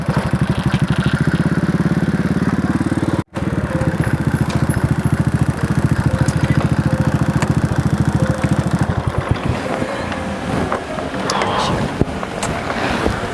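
Motorcycle engine idling steadily and loudly up close, a rough continuous rumble with a brief cutout partway through, then turning more uneven and quieter toward the end.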